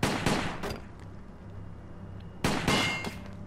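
Gunfire in the tactical game Silent Storm: Sentinels, two loud clusters of sharp shots, one at the start and another near the end, separated by a quieter stretch of low rumble.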